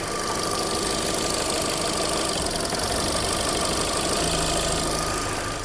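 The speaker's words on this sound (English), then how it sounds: "What I'm going to do now is introduce a misfire, so a deliberate fault on cylinder 3" A car engine idles with a deliberate misfire on cylinder 3, giving a loud, steady running drone with a faint uneven knock in its rhythm, close to the microphone and with no voices.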